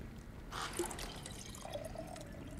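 Mead splashes and trickles as it is poured into a drinking vessel in the video game God of War Ragnarok, a brief, quiet liquid pour with a few drips.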